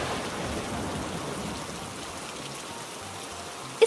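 Steady rain falls in a cartoon scene, a continuous even hiss of drops on the ground with no voices. Near the end a single brief knock sounds.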